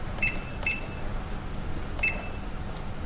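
A Thermomix kitchen machine beeps as its timer is set, with three short high beeps, two close together and a third after a pause, over a low steady hum.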